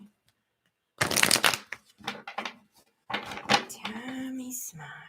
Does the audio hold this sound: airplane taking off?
no